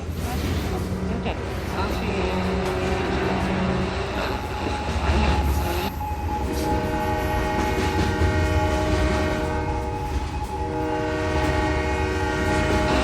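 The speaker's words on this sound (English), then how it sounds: "Hold up the train!" A train rumbles steadily and loudly while its horn sounds in sustained, layered blasts, with voices faintly audible beneath the noise.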